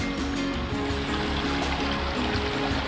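Water flows steadily a few metres from a waterfall at La Cofradía in Espíndola, Loja, Ecuador, a loud, continuous rushing wash that fills the whole clip with no voices.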